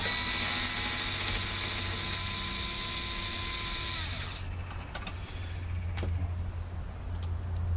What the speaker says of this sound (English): Take the old screw out because I want new, not old.